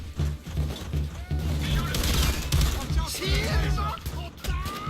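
Shotgun blasts in the video game Payday 2, a run of close, loud gunfire bursts mixed with crashes and a dense in-game racket under a voice.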